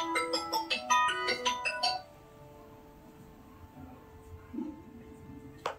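A phone ringtone plays a bright, repeating melodic tune for about two seconds, loud and close, then cuts off, leaving quiet room noise and faint movement.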